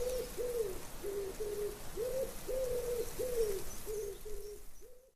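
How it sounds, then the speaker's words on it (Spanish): Doves coo in a clear run of about ten soft, evenly paced hooting notes, close and distinct over faint background noise, fading out at the end. "El canto de las palomas."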